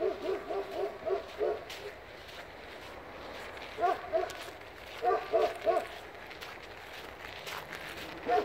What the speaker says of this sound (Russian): Охранные собаки гавкают, зарабатывают себе на косточку.